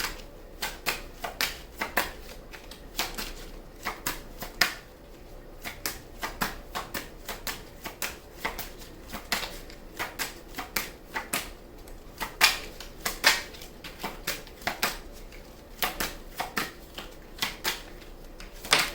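A deck of tarot cards being shuffled by hand, with rapid crisp riffling bursts repeating steadily throughout, close and fairly quiet, with no talking.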